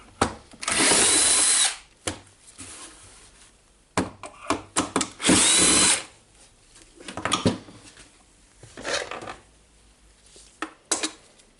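Power drill backing screws out of an old DeWalt DC011 job-site radio during a repair, with two loud sustained whirring bursts separated by clicks, knocks and handling of the plastic housing.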